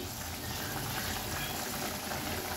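Prawn curry gravy simmering in a covered pan gives a steady, dense bubbling hiss, close and even throughout with no talk.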